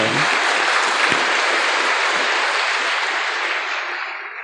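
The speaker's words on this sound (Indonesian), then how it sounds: "tepuk tangan dulu boleh" A gathered audience at an Indonesian pencak silat talk claps together in a dense, steady burst that tapers off near the end.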